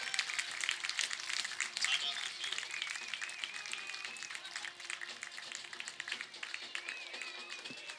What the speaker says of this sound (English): As we hear the crowds and cheers from the fans